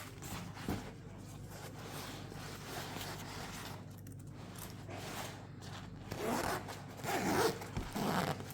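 A laptop bag's zipper is pulled open in quiet surroundings. Quick rasping zip strokes come close to the microphone, then a longer, louder run of zipping and rustling near the end.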